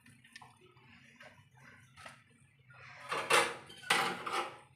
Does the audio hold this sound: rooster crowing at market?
no